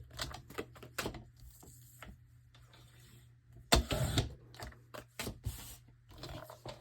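Gold foil cardstock is trimmed to size on a paper trimmer, giving a series of sharp close clicks and taps with a louder scraping slide of the blade partway through.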